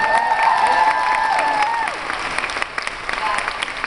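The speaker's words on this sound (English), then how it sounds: "I think we should hear a bigger round of applause for that." Studio audience applause from a daytime talk show, a dense clapping wash with some cheering that dips midway and carries on more thinly, mixed with faint background tones.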